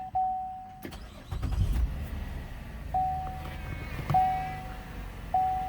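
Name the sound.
2013 Chevrolet Impala engine starting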